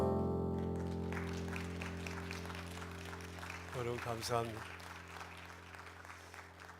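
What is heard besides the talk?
applause of encouragement for students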